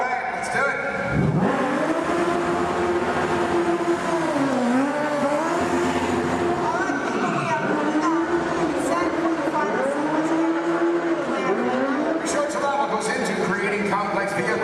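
Stunt car driving at a theme park vehicle stunt show, a continuous roaring engine rising and falling with revs, tires squealing through turns, loud and steady throughout with faint crowd sound underneath.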